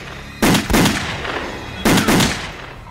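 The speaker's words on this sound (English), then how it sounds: "Wynn returns and shoots Fenton 7 times." Gunshots from the 2008 film Prom Night, loud sharp reports in two quick pairs about a second and a half apart, each with a short echoing tail.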